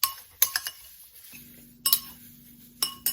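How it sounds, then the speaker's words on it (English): A utensil clinks against a bowl while chives seasoning ingredients are mixed, giving sharp taps in small clusters with quiet gaps between them and a faint low hum in the background. "And you just mix it up."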